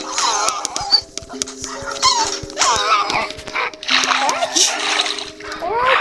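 Dog sounds from a Minecraft-style video game, short yelps and barks mixed with splashy in-game effects and layered music, with a person talking over them throughout.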